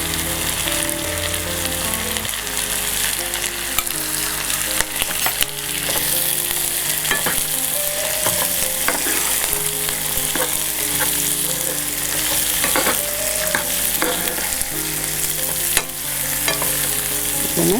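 Kohlrabi and beans fry in a pan with a continuous close sizzle, broken by frequent scraping and clinking strokes of a spatula as they are stirred.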